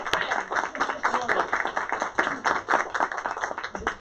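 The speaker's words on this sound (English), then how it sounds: "Let's give a round of applause for our kindergarten students." Crowd applause for kindergarten students at a school early learning event, steady dense clapping throughout, moderately near, with some voices mixed in.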